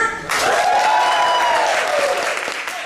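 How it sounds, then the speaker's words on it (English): Improv show audience bursting into practice applause, loud dense clapping that swells after a short lead-in and holds steady, with a voice rising over the crowd. "exploding with a level 10 applause"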